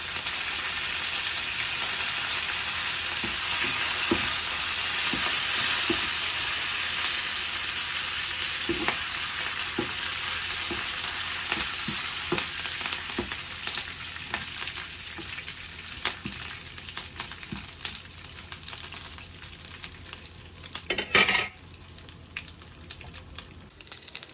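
Mustard seeds and curry leaves sizzle in hot oil while tempering for yogurt rice, making a steady close crackling hiss with scattered pops and a sudden loud burst of spattering near the end, with no talking.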